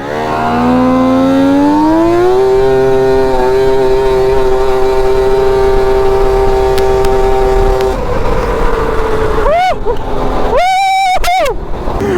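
A lawn tractor swapped to a triple two-stroke engine screams at full throttle, its loud buzzing pitch climbing and holding steady close by, then dropping and revving in sharp bursts near the end.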